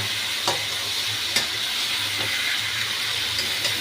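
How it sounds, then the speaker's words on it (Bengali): Mutton cooked over high heat for kosha, frying in a pan with a constant loud sizzle and hiss and a few sharp spoon scrapes from stirring. "প্রথমে বড় আঁচ রাখবো, তারপর কম করবো, করে করে করে করে কষিয়ে কষিয়ে রান্না করবো।"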